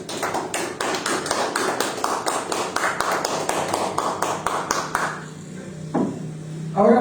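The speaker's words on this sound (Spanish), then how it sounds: "Denle un aplauso al Señor." Rhythmic, loud unison clapping from a church congregation applauding the Lord, a steady beat of sharp claps that stops abruptly near the end, followed by brief murmuring.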